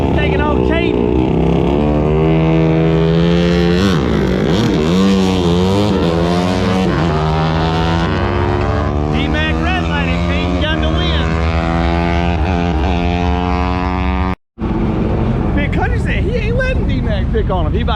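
A Honda CRF 150 dirt bike engine revs hard and close, its buzzing whine climbing and dropping in pitch as the rider works through the gears on an off-road track, broken by a brief cut near the end.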